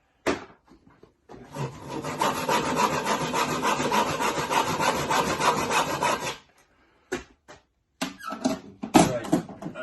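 A hand saw cutting through wood in a DIY bench build from an old bath, steady rasping back-and-forth strokes for about five seconds, then a few short knocks and scrapes.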